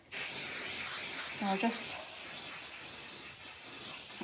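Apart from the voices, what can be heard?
spraying from a spray can onto fabric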